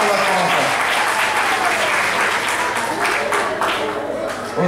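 A crowd applauds loudly and continuously at a French-speaking gathering, the dense clapping holding steady throughout and easing slightly at the very end.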